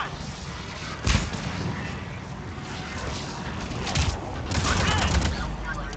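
Gunfire in the video game Mass Effect 3, a sharp burst of shots followed by further volleys and rumbling fire, mixed with a voice talking over the action.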